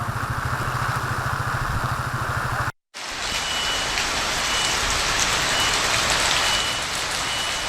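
Continuous rain falling in Dharwad, a dense steady hiss of drops on surfaces that cuts out briefly, then returns louder and brighter.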